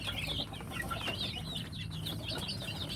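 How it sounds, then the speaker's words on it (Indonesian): A sick village chicken, suffering from snot and swollen eyes, clucks close by in a coop, giving repeated short calls over steady background noise. "Ini ayam yang sudah terkena penyakit"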